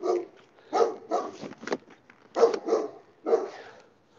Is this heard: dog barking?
yes